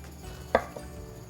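A single knife cut through a king oyster mushroom on a cutting board, one short soft thunk followed by a fainter tap, quiet and close with no voices.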